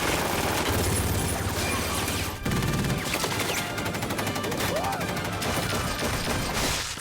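Rapid bursts of film gunfire from the puppet action movie Team America ring out loud and continuous for the whole stretch, sometimes dense like a fusillade, with a brief dip near the middle.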